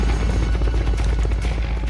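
Helicopter in the Metal Gear Solid Peace Walker video game, a steady loud low rotor drone with rumbling beats running continuously throughout, no voices.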